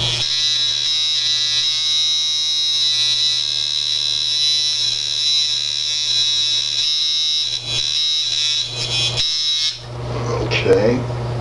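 A tattoo machine set to about seven volts buzzes steadily and loudly while being tuned, a continuous high electric hum that cuts off near the end.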